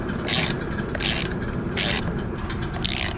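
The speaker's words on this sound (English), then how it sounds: "Take a while to put all these light bolts in by hand." Bolts being tightened by hand in a barn, with four bursts of ratcheting scraping spaced about half a second apart, close and fairly loud.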